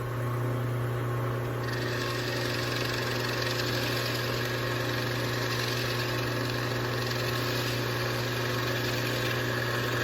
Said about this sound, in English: I'll drill a couple of holes.